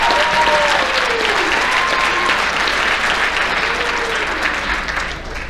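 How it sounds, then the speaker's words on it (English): A crowd claps steadily at a high school athletic banquet, honouring a team's district playoff win, with a dense wash of many hands and a few faint voices and whistles rising over it throughout. "Give them a round of applause for that."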